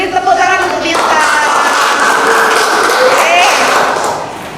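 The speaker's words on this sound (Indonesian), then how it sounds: "Beri tepuk tangan untuk Bintang." Classroom students applauding a classmate during a physics lesson, a sustained wash of many hands clapping right after a voice, steady and fairly loud before tapering off.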